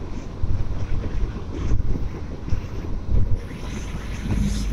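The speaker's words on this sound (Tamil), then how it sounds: "சரியான காற்றுங்க, செம காற்று அடிக்குது அப்பா." Strong wind buffets the microphone while riding a Yamaha MT-15 motorcycle at about 60, a loud continuous roaring rush with gusty swells throughout and no talk.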